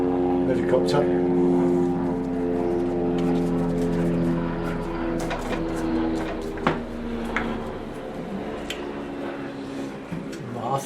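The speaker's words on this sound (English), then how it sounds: "helicopter" A steady low engine drone with a deep rhythmic thrum, like a helicopter passing overhead, with a voice talking over it.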